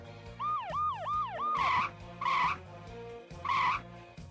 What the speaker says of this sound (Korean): 이 소리는 폴리들 사이렌 소리?